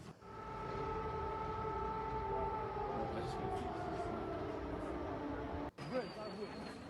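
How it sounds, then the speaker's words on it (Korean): A wailing air raid siren sounds over the city of Lviv, Ukraine, a sustained, slowly falling tone heard from a distance under background noise, cut by an abrupt break near the end. "오늘 아침부터 르비브 시내에서는 사이렌 경보가 자주 들리고 있다고 합니다."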